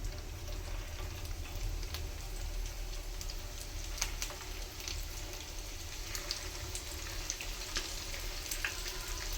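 Chicken pieces frying in hot oil produce a steady, low crackling sizzle with scattered pops and ticks, moderately quiet and close, with no speech.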